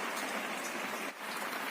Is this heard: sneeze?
no